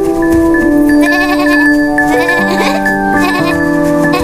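Several goats bleat in overlapping, wavering cries, close and loud, with a faint jingle of bells underneath.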